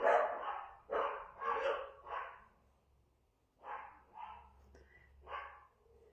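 Several dogs bark in short repeated bursts, a loose rhythm of four or five barks, a pause, then another volley, moderately close and alone without talk.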